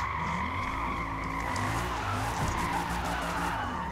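Tires on a Bugatti Veyron drift build in Forza Motorsport squeal and skid hard under braking, a loud, sustained screech over the engine's roar.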